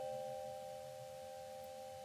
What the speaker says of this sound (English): now, the bell's ringing, sorry, it'll quit in a second